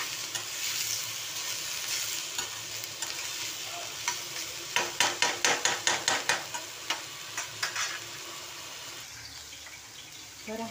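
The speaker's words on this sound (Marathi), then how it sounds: "तर हा मसाला आहे ना इकडे भाजते" Masala spices roasting in an oily pan, with a steady sizzle and a quick run of sharp scraping stir strokes in the middle, close and moderately loud.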